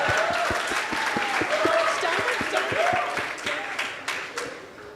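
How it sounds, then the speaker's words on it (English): Audience applause for a student named Rochelle, with sharp regular claps standing out near the front over a softer crowd patter and a tonal murmur, tapering gradually toward the end. "Give a round of applause for Rochelle,"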